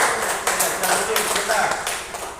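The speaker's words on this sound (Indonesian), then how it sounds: "tepuk tangan untuk kelompok 1" A seated group, such as a class or church discussion meeting, breaks into loose applause for one of its teams, with scattered overlapping claps at moderate volume alongside voices in the room.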